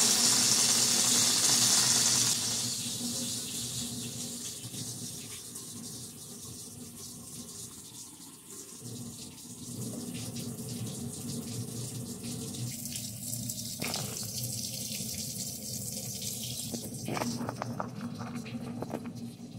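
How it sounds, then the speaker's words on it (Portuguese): Water runs steadily from the tap of an Electrolux water purifier after a filter refill change, a constant close hiss and splash that carries on alone for the whole stretch. "eu vou abrir o registro e deixar correr água aqui cerca de uns 3 minutos"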